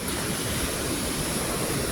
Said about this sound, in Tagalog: ang alon ay humahagalpak